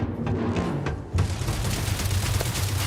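Automated turrets blast away in a video game, a rapid barrage of booming shots and rumbling impacts, loud and continuous with a heavier burst partway through.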